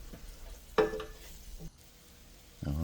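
Chuck roast cooking in a little oil in a pan gives a low, soft sizzle, broken by a few brief clatters of handling.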